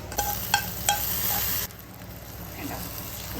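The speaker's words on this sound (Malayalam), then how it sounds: "ഇതുപോലെ നല്ല മൂക്ക വറുത്തെടുക്കണം കേട്ടോ" Grated coconut roasting in a pan until deep brown for erissery curry: a spoon scrapes the pan three times in quick strokes, then a soft sizzle continues alone.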